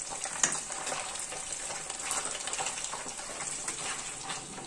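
Fish frying in hot oil, with a continuous close crackling sizzle that holds steady throughout, no voices over it.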